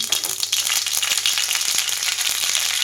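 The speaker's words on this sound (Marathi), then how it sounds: "आणि मोहरी छान तडतडली आहे" Mustard seeds splutter and pop in hot oil in a kadhai, a steady crackling sizzle of dense little bursts heard up close with no voices.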